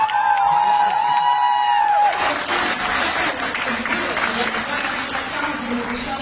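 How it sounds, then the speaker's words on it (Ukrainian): A large television talent-show audience at X-Factor breaks into loud, sustained applause and cheering that fills the whole stretch, entering after a brief tonal synth sound at the start. "Ваші оплески!"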